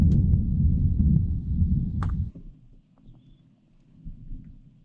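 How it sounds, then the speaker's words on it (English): A deep, rolling rumble of thunder fills the first couple of seconds, then fades to a quieter low rumble with a few faint ticks. "That thunder's not messing around."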